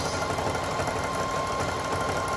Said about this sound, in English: So I just start sewing the zigzag real quick